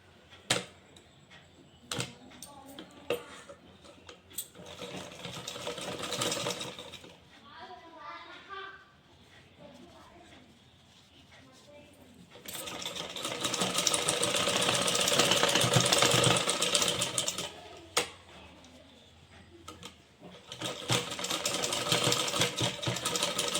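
A domestic sewing machine stitches a blouse sleeve in a tailoring session, whirring in sustained loud runs broken by pauses and clicks, while someone talks between bursts.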